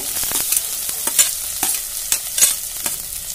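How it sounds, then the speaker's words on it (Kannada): Mustard seeds, ginger-garlic paste, curry leaves, coriander and onion frying together in a pan for a sprouted-bean curry: a close, hissing sizzle with repeated sharp scraping stirs at an uneven pace and no voices. "ಸ್ವಲ್ಪ ಇದೆಲ್ಲ ಹುರ್ಕೋಬೇಕು"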